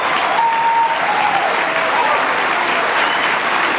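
A standing-room-only crowd at a 1997 town hall in Bloomington, Indiana fills the room with steady, loud applause that holds for the full length.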